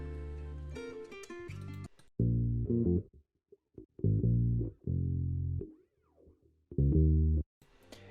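Short bursts of low bass guitar notes picked near the bridge with a hard, punchy attack, separated by brief silences, loud and close.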